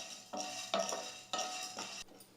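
A spoon stirs chana dal dry-roasting in a hot pan for an idli dosa podi with moringa leaves, scraping in three or four distinct, fairly loud strokes close up with no talking.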